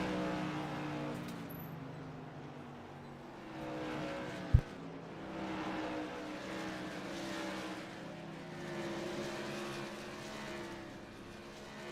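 Modified race cars lap Kern County Raceway Park during warm-ups, their engines a continuous droning roar heard from a distance that swells and fades as the field circles, with one brief sharp thump midway.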